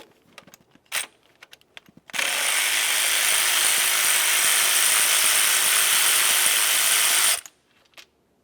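Ratchet clicking fast and continuously for about five seconds while loosening a knock sensor bolt on a Nissan Titan, bracketed by a few faint clinks of tools before and after.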